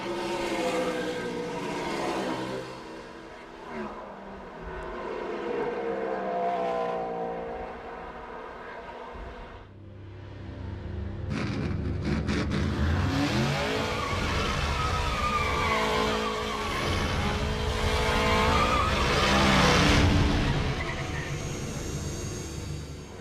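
Race cars running the final laps at Watkins Glen, a loud continuous roar of engines and tyre noise with swelling passes and a louder surge in the second half, no talk.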